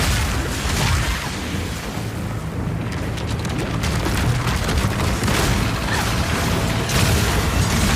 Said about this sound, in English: Armor-piercing bolts. Permafrost bolts. Incendiary bolts.